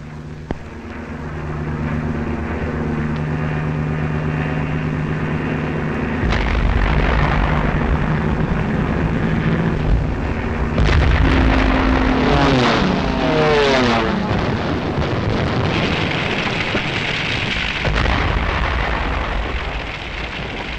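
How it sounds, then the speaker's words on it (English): Archival wartime bombing of Rotterdam: a droning aircraft engine gives way to heavy, rumbling explosions and roaring blasts, loud and continuous with shifting tones, no speech over it. "This was Rotterdam, bombed after the Dutch forces had surrendered."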